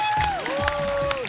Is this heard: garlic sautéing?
no